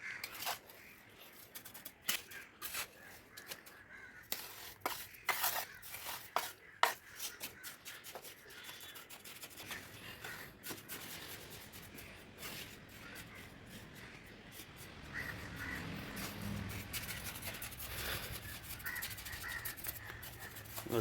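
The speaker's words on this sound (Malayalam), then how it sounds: "ഇനി നമുക്ക് ചാന്തിടാം" Mortar being packed and filled by hand into the joints of interlock paving at a home, a quiet run of scraping, rubbing and shuffling noises that gives way to a steadier, rougher scrape near the end.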